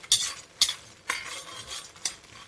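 Makhana (fox nuts) being roasted and stirred in a pan: four crisp, close scraping and rattling strokes, evenly spaced with short gaps between them, with no talking.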